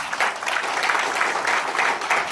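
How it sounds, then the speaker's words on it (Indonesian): Audience applause at an indoor business presentation, a steady wash of many hands clapping that holds for a couple of seconds without a break. "Kasih tepuk tangan dulu."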